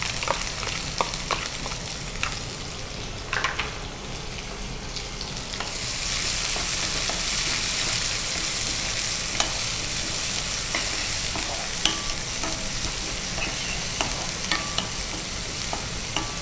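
Onions sizzle in hot oil in a pan alongside chana dal and urad dal, with scattered scraping and clinking of a spoon stirring, the frying hiss swelling louder partway through.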